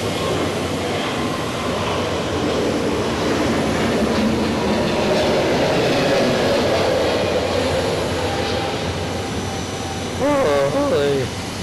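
An Aegean Airbus A320neo rolls for takeoff on a runway at Zurich Airport, a broad steady jet-engine roar heard from a distance that holds for several seconds.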